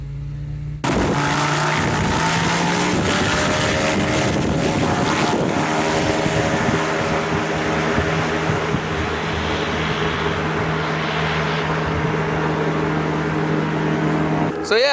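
A training airplane departing runway 31 for circuits: a loud propeller engine roars up abruptly, holds a sustained, strong drone and slowly eases as the aircraft pulls away, then cuts off sharply at the end.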